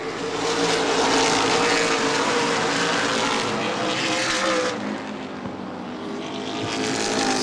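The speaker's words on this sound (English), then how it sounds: "Tommy Cook fighting a loose race car as he gets sideways the entrance to turn 3" Late model sportsman race cars roaring around an oval track at Angola Motorsport Speedway, a continuous loud engine drone with shifting pitch as cars pass, dipping briefly near the end before building again.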